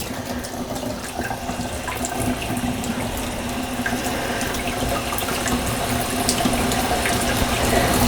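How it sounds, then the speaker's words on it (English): A faucet running hard, with a steady rushing hiss of water splashing into a sink, alone and close throughout. "I've got the faucet on full force."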